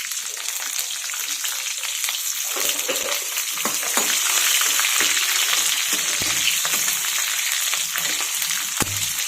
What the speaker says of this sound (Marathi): आपण मिरची टाकून घेऊयात।